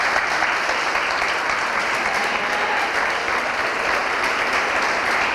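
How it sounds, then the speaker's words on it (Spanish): An audience at a sermon claps in a steady, dense round of applause that stays loud and even from start to finish, with no voices over it. "Les damos un aplauso, que lo pasamos."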